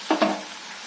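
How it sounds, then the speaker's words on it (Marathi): Cooked rice tipped into a pan of frying vegetables with red chillies and green peas, two quick soft thuds followed by a brief hiss of sizzling, close and fairly quiet. "शिजवून घेतलेला भात घालणार आहे मी याच्यात"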